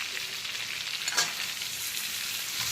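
Prawns frying in hot oil for a banana-flower curry make a continuous, even sizzle, moderately quiet and close, with a single faint clink partway through and no talking.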